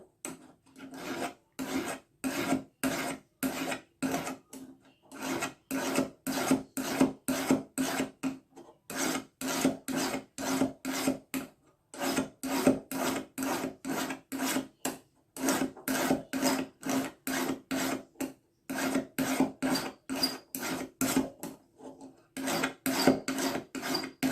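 A hand file rasps solder off a metal ring blank in quick, even back-and-forth strokes. The rhythmic scraping comes in bursts separated by short pauses and sounds close and clear, with no talking.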